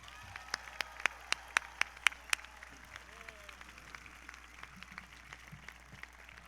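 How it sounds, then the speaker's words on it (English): Scattered handclaps from a small audience at a board meeting, a burst of sharp individual claps that thins out into sparse, quieter clapping. "Please give our board a big round of applause."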